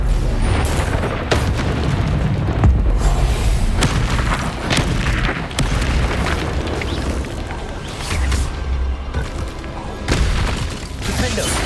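Repeated explosive spell blasts, Bombarda and Confringo, boom through a Hogwarts Legacy wizard duel, with loud dense bursts and crackling impacts layered under constant combat noise and shouted voices.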